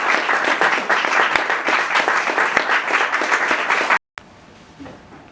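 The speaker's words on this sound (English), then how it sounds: "Can we give a round of applause?" An audience applauds at the end of a talk, with dense, sustained clapping that stops abruptly, leaving a quiet room.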